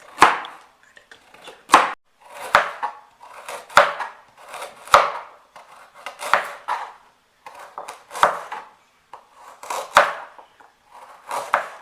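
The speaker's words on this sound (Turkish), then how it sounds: "Şimdi havuçlarımı da böyle küp küp doğrayacağım" A knife chops fresh carrots into cubes on a cutting board in uneven bursts, each stroke a sharp thud followed by quick rustling, close and fairly loud.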